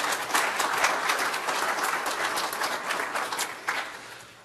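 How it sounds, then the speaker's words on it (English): A round of applause from the audience at a debate on money, politics and charitable giving, many hands clapping in a dense, sustained burst that fades toward the end. "Please join me in giving all of them a round of applause."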